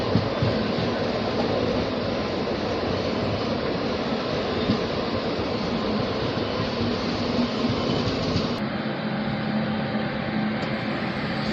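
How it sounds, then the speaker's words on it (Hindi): A goods train of petrol tanker wagons rolls past steadily on the line, a dense continuous rumble and clatter that drops abruptly near the end as the last wagons clear. "इस लाइन पर गुड्स ट्रेन, ये है पेट्रोल के टैंकर, इनका आवागमन बहुत होता है।"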